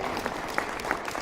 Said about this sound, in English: and so Leif Madsen, let's just have a big cheer for Leif Madsen,